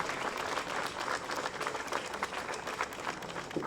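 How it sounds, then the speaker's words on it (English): Audience applause at an outdoor gun safety rally with students, teachers and advocates, a steady wash of many hands clapping that fills the whole stretch at even loudness, with a few faint cheers mixed in. "let's give them a big round of applause and credit for their convictions"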